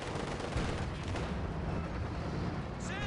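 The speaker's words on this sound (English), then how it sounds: "Yes, in fact, the major did call in a barrage." An artillery barrage rolls on without pause in Company of Heroes 2. Dense, overlapping booms and gunfire crackle form a loud, continuous rumble with no voices.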